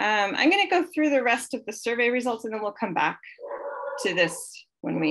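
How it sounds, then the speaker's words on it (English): A dog yips and whimpers in high, whiny bursts behind a person speaking during a conservation commission meeting, with the strongest whine coming in a pause near the end. "sorry about the dog"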